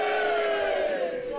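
A live crowd at a fight event roars and chants in a sustained, loud, unbroken swell that fills the space.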